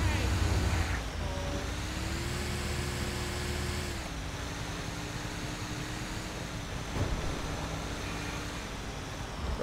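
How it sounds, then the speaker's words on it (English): Heavy Mercedes-Benz Actros truck engine in GTA 5 drones steadily and loud throughout, a constant low rumble with a slight pitch rise and dip midway. "I feel like this truck is really loud right now"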